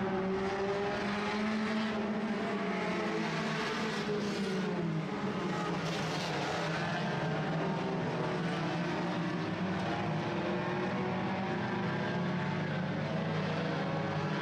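Sport compact race cars at El Paso County Raceway accelerating at the green flag, a continuous loud engine drone with rising and shifting pitch, heard from a distance and steady throughout without talk.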